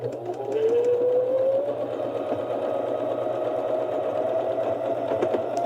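A Janome 725S sewing machine stitches darts on fabric for a microwave cozy, a steady close whir that rises in pitch and holds for several seconds.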